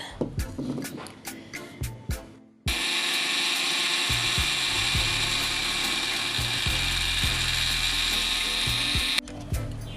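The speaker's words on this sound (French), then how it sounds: "on pile la noix de muscade et le sel" A pestle pounds nutmeg with onion-skin salt: a few sharp separate strikes, then a steady loud grinding whir with repeated thumps underneath, ending abruptly.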